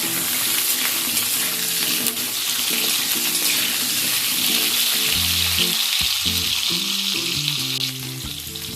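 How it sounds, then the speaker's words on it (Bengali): Pieces of pointed gourd (potol) sizzle steadily in hot oil in a pan, a continuous loud hiss throughout with occasional lower clinks and scraping of a utensil toward the end. "পটলগুলো একটু লালচে করে ভেজে নিতে হবে।"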